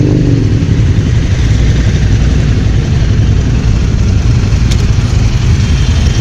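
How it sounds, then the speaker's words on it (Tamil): A group of ten Royal Enfield Himalayan motorcycles running together on a group ride, producing a loud, steady, low engine rumble that never lets up. "மொத்தம் 10 பைக் இருக்குது, எல்லாமே ஹிமாலயன் தான்."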